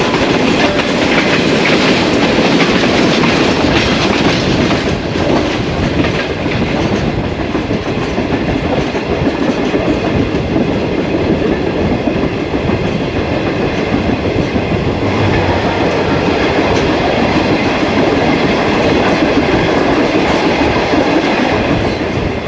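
The Shalimar Express passenger train runs past a railway station near Karachi, a loud, steady rolling roar with clattering wheels on the rails, close by and continuous throughout with no talking.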